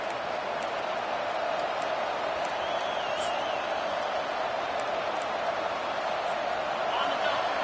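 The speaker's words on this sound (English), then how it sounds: "Listen to this crowd just shaking the girders of this place, trying to help their defense." Stadium crowd roaring at a college football game between Missouri and Florida, a dense, sustained wall of distant cheering with a commentator's voice over it.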